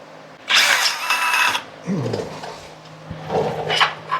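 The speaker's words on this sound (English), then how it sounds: "5/16 drill bit. Gonna run it through with a 3/8 tap." A power drill whirs in a short burst, followed by clunks and tool handling, then a shorter whine near the end.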